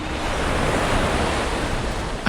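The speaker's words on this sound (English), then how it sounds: "everything suddenly went quiet and the sound of waves filled my ears" Ocean waves wash steadily as continuous broadband surf, loud and close, with no talk and a constant roar throughout.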